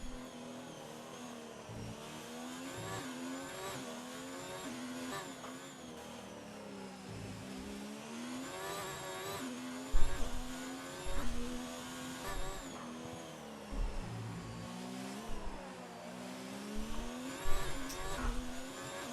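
A race car's engine wails through gear changes on a hot lap of the Azerbaijan circuit in a racing video game, rising and falling revs in long sweeps, fairly quiet and steady with a few louder bumps.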